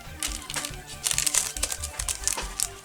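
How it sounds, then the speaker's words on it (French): Folded adhesive tape is handled and pressed onto a handmade birthday card, giving close, quick crinkling and crackling rustles in short bursts. "je vais venir prendre du ruban adhésif, que je vais venir le plier sur lui-même et je vais venir le mettre à 3 endroits"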